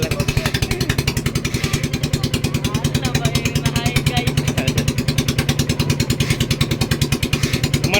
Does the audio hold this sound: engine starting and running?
yes